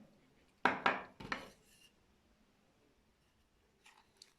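A utensil stirs bread dough in a bowl, making a few close clattering, scraping strokes in quick succession, then a long quiet pause before one faint scrape near the end.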